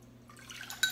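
Four cups of water poured from a large plastic measuring cup into a mixing bowl, a short faint splash and trickle that swells near the end of the moment.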